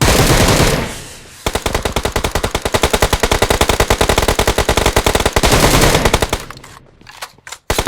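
Rapid bursts of PUBG Mobile machine-gun fire rattle loudly and continuously for several seconds, then drop off into a few scattered shots.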